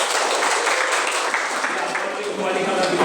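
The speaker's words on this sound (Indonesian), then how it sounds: "Oke, baik. Tepuk tangan." Group of teachers clapping at an educational workshop, loud dense continuous applause across the whole span with no clear speech over it.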